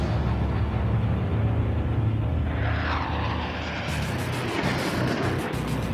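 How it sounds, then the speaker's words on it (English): A futuristic jet fighter roars steadily through a massive aerial battle over Miami in the video game Ace Combat Assault Horizon, its loud continuous engine rush swelling and shifting pitch as it passes. "And we have our super futuristic jet."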